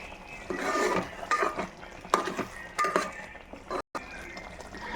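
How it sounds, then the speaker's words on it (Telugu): Mushroom curry being stirred in a pan, with a spoon scraping and clinking against the metal in several separate strokes over a soft sizzle, close and fairly quiet. "మెల్లగా కలుపుదామండి"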